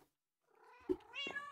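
A cat in the Minecraft video game meows once or twice, short and fairly close, after a brief moment of silence.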